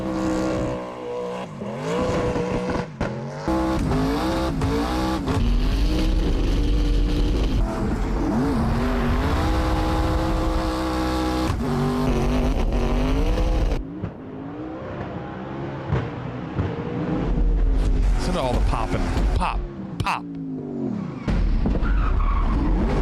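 A car skids through obstacles with tires squealing loudly and engine revving, shrill tonal screeches rising and falling over a constant roar, with a brief lull midway before the sliding and squealing resume, close and continuous.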